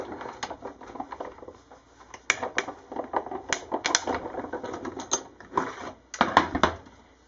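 Paper and stacked plates with a Nestabilities die are cranked through a die cut machine, giving an irregular, close-up clicking and crackling patter that swells and fades as the sandwich rolls through.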